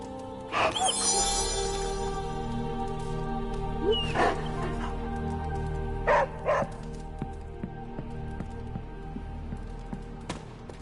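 A dog named Charlie in the video game Midnight Suns gives a few short barks and yips, spaced out over a steady background game ambience and music.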